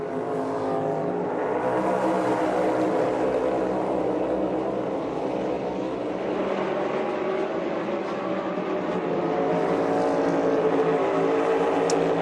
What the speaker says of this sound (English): There's that downshift in Blaney we were talking about.